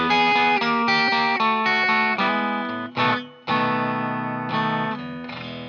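Electric guitar plays a distorted blues turnaround lick, a steady run of sustained notes and slides that pauses briefly before resolving on ringing chords, loud and close with no voices.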